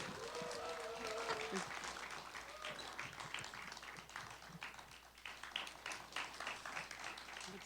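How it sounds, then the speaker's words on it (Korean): At a Korean singing group's event, an audience claps while flowers are presented to a teacher, scattered sharp claps over a low hum with a few voices and a brief tonal sound early on. "큰 박수 부탁드릴게요"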